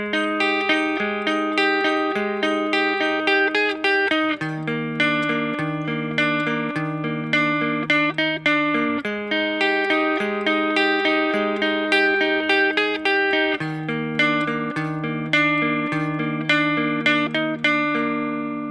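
An electric guitar plays the full riff of a song, a repeating sequence of clear, picked single notes and sustained low notes in steady rhythm, close and alone with no voices.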